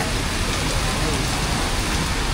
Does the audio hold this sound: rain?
yes